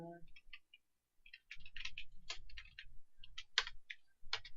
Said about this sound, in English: Just type. Just start typing.